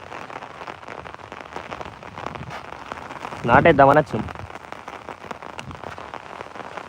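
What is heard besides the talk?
heavy rain falling on a field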